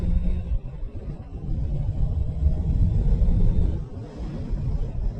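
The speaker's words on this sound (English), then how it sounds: "today I am riding the Honda CBR 650F," A Honda CBR 650F sports-tourer motorcycle is ridden, its engine a low, rumbling drone that swells and dips gently as the throttle changes, mixed with wind noise, with no voices.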